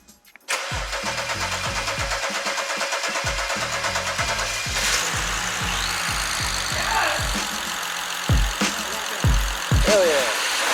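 BMW 335i xDrive engine cranking and starting after fuel injector replacement, a short starter whir catching into a loud, steady idle up close, with a voice briefly speaking over it near the end.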